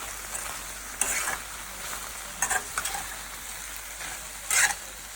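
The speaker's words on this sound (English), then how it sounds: "I have chopped this potato and adding it to the okra. Mix it well." A steady sizzle of chopped potato and okra frying in a pan, with several brief scraping bursts as a spoon stirs and mixes them.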